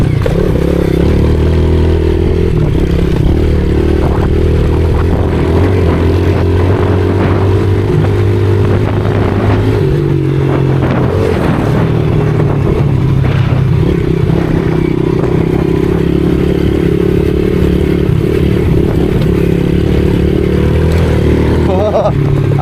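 A pit bike motorcycle laps a dirt flat track, its small engine revving up and easing off through the turns, close and loud, with tyre scrabble and clatter, and a rider talking over the engine at times.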